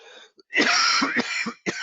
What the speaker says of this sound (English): got a coughing attack here